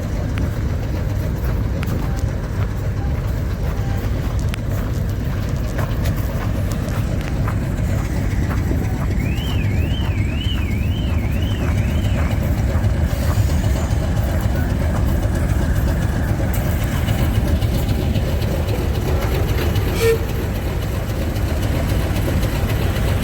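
British Rail Class 50 diesel locomotive at a heritage railway diesel gala in the Forest of Dean, its heavy engine rumbling steadily and loudly at close range for the whole stretch, with faint voices in the background.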